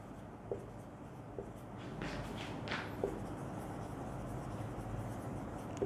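A marker or pen scratches across a board in short, soft strokes with a few light taps, faint and close over a low background hum, with no voices.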